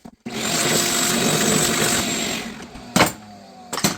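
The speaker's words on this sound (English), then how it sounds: "And we're going to vacuum all of these out." A shop vacuum sucks debris out of freshly drilled holes in a workbench top, a steady close whooshing roar that cuts off, followed by a few sharp knocks.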